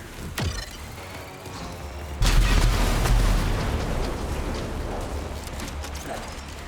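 Summoned turrets in the video game Rage 2 firing rapidly, a sudden loud burst of dense, continuous gunfire that starts a couple of seconds in and rattles on steadily to the end, after a quieter opening.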